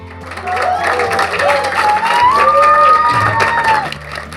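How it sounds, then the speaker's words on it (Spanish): A live audience at a science talk event applauds and cheers to welcome a physicist onstage, loud continuous clapping mixed with shouts and whoops, including children's voices, close and lively throughout. "Recibamos con alegría, aplausos y con un grito"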